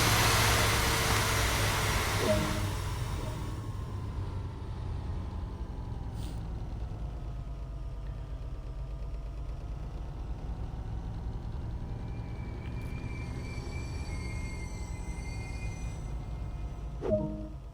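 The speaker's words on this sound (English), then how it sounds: "We will now begin the test of the emergency brake." A train in Train Sim World 2 on the NEC Boston–Providence line makes an emergency stop, opening with a loud blast of air that fades into a long low rumble and hiss as it slows, ending with a faint squeal.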